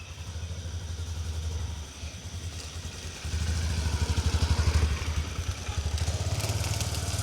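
Motor vehicle arriving, its engine a steady rumbling drone close by with a throbbing pulse that swells and dips as it moves.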